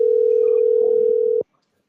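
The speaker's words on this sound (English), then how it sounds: "then I'm going to call him on the phone" A steady telephone dial tone heard when placing a call, loud and unbroken for over a second before cutting off abruptly into silence.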